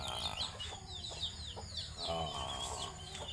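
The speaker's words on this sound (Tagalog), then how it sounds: "So, yung mga manok po nag-uunahan." Chickens cluck and chirp in quick repeated calls over steady outdoor morning background noise, with a few fowl calls rising in the middle.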